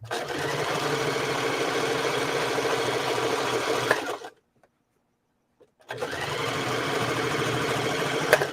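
A sewing machine stitches a turtleneck in a loud, continuous mechanical whir, stopping abruptly for about a second and a half of silence before running again at the same steady pace.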